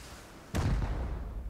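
A rocket launcher shot explodes in the survival game Rust, one heavy booming blast hitting abruptly after a quiet moment and rumbling away.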